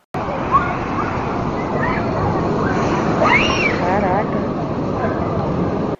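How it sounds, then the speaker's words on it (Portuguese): High-tide seawater washes across the new Ajuruteua seafront boardwalk in Bragança with a continuous sloshing, surging rush. Voices talk and call out over the water. "a maré invadiu a nova orla de Ajuruteua"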